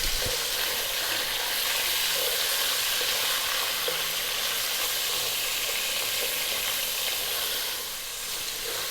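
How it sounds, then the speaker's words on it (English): Beef fries over high heat in a loud, continuous hiss and sizzle, close and unbroken, easing slightly toward the end, with no voices. "And on a high heat, we're going to fry it for 4 minutes"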